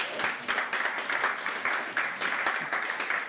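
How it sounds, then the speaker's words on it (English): An audience at a technology hiring panel claps for a few seconds, a moderate steady stream of hand claps with some sharper individual claps standing out. "A round of applause."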